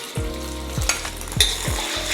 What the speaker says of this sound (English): So then we want to give it a quick stir fry